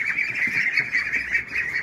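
A flock of laying ducks on an Indonesian farm, their busy chattering calls continuous and fairly close, with wing flapping mixed in.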